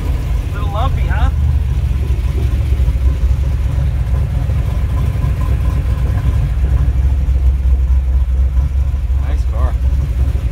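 A 1955 Chevrolet 150 post gasser with a 400 Dart small block idles loud and close, its lumpy, uneven rumble steady throughout while people talk over it.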